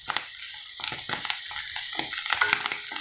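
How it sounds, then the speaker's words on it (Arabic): Onions and mushrooms frying in a pan, a close crackling sizzle broken by intermittent stirring scrapes and clinks, moderately quiet and alone without voices. "فوالا هاو تقلى البصل والشامبينيون ديالي"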